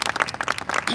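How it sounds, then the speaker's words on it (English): A brief burst of audience applause at a county government gathering, brisk overlapping claps, close and bright, lasting about a second. "So please, another round of applause for my partner in government."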